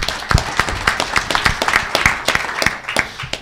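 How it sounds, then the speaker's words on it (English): An audience at a political candidate forum gives a round of applause, loud, close, dense clapping that holds steady for several seconds with a few sharp individual claps. "Let's give you all a round of applause."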